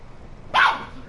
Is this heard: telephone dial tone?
no